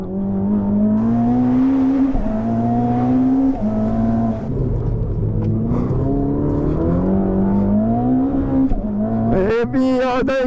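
A Ferrari SF90 Assetto Fiorano accelerating hard on a race track, heard up close from on board, its engine note climbing repeatedly and dropping at each quick gear change, loud and continuous throughout.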